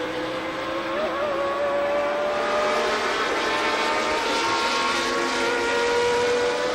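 A 1981 Alfa Romeo Formula 1 car races past at Monza during the Italian Grand Prix, its high-revving engine a loud, steady whine that holds and shifts pitch slightly over several seconds.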